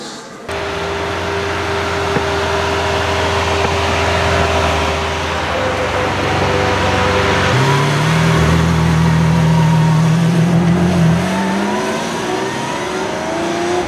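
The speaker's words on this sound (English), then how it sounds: "We just saw an Aventador SV Roadster leave." A Lamborghini Aventador SV Roadster pulls out of the Lamborghini factory exit, its engine loud and close with a sustained drone that climbs in pitch as it revs and accelerates away.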